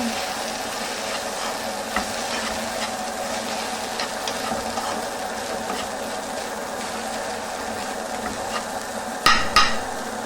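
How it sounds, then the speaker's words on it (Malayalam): Onion-plant thoran fries in a pan while being stirred after salt goes in, a constant close sizzle with faint scraping and a few louder clatters near the end, no talking. "ഉപ്പിട്ട് ഒന്നും കൂടി ഇളക്കുന്നു."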